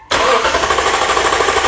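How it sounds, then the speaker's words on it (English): A car engine being cranked over by its starter during a no-start fault check with a spark tester, a loud, steady, continuous churning drone close by, with no catch or rev-up. "Engine cranks but will not start."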